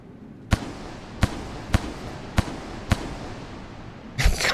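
Modded Rain World Mac 10 shots ring out as five crisp, evenly spaced cracks about half a second apart, up close over a quiet room-tone bed, followed by a brief rustling burst at the end; no voices.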